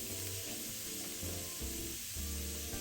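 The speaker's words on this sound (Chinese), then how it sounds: "調味後繼續翻炒1分鐘左右，讓醬汁稍微包裹肉末即可。" Seasoned minced pork being stir-fried in a pan gives a steady, close hiss of sizzling, with faint stirring scrapes underneath and no talking.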